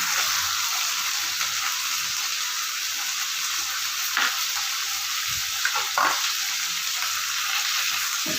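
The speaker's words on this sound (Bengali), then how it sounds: "এবার আমি এর মধ্যে দিচ্ছি এই টমেটো কুচিটা।" Chopped tomato hits hot oil in a pan, a steady close sizzle with a few stirring scrapes and no talking.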